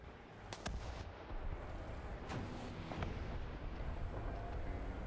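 A few booming tank cannon shots and blasts from a Challenger 2 in War Thunder over a dense, roaring rumble, spaced irregularly across a few seconds.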